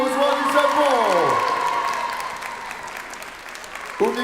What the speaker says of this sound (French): je vous invite tout d'abord à accueillir sous un tonnerre d'applaudissements Umikun qui nous rejoint du Japon